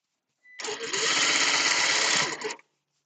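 A sewing machine stitches through a heavy, thick seam of bag-weight fabric, a steady close whirring run of about two seconds that starts up, holds even and stops cleanly, with no talking over it.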